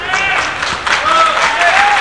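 Crowd applauding in an arena before a heavyweight kickboxing title bout, a broad wash of clapping under a commentator's voice.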